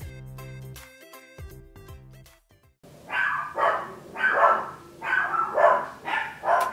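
Dogs in a home bark in a run of repeated, loud, close yips and barks, following a short stretch of soft music that cuts off.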